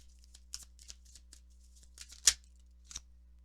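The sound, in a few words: tarot cards being shuffled and drawn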